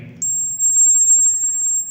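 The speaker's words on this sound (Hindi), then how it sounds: "ये बीप साउंड जो है वो एज अ हॉर्न काम कर रही है गाड़ी" A single shrill electronic buzzer tone starts abruptly and holds steady, loud and close, serving as the horn of a Bluetooth-controlled toy car.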